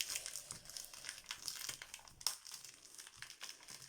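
Crisp crinkling and rustling of paper as a 30x30 paper pad is opened, with a string of close, irregular crackles and one sharper snap midway, fairly quiet.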